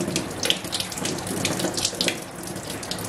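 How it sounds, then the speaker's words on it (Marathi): Raw squid pieces rinsed and rubbed by hand under a running kitchen tap, a steady close splashing water stream with soft squelching handling throughout, no talking. "ते पण आपण असं व्यवस्थित धुवून घेऊया"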